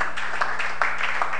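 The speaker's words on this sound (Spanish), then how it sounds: "déle un fuerte aplauso a Dios" A church congregation applauds at a pastor's call, a brief stretch of dense, moderately loud hand clapping with rhythmic bursts.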